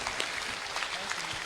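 A school audience at a university rector's address claps for a short moment, a dense even patter of many hands with some faint voices underneath.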